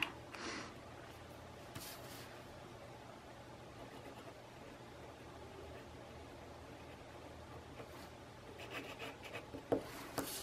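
A pencil scratches out a signature on paper beneath a painting, a soft continuous rubbing with a few sharper strokes near the end, close and quiet.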